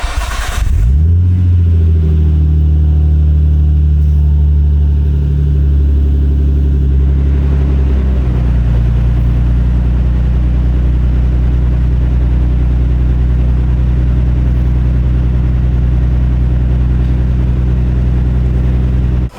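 Nissan Skyline GT-T R34 with an RB25 engine starts up, then settles into a loud, steady idle drone close to the microphone.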